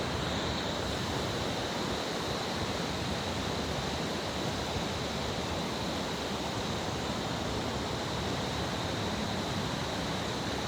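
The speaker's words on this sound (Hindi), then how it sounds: "ये मधुगंगा नदी है" The Madhuganga river rushes in the Himalaya, a loud, constant roar of flowing water with a steady hiss and no breaks or voices.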